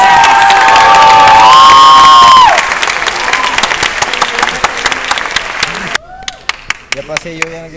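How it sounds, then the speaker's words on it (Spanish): Students get loud applause and cheering at a party, a crowd clapping and shouting together, with a voice over a microphone at first, then scattered claps and whoops as it fades. "Un aplauso para los estudiantes del grupo."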